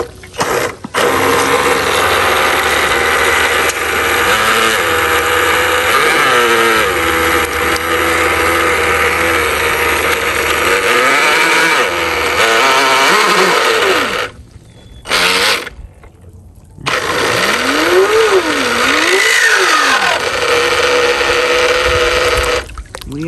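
Small radio-controlled jet boat motor whirring steadily while the boat runs through a puddle, a continuous near buzz with pitch swells, dropping out briefly twice before resuming.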